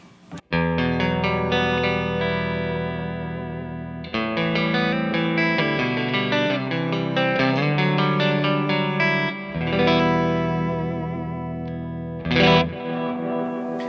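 Electric guitar played through an amp with a Catalinbread Echorec echo pedal, ringing sustained chords and melodic lines with repeating echo tails, loud and continuous with a brief pause near the end.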